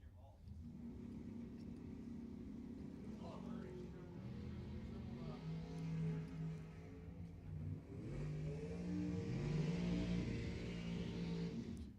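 Dragsters race at Lebanon Valley Dragway, engines rumbling and revving at a distance beneath a continuous announcer's commentary, the roar swelling toward the end.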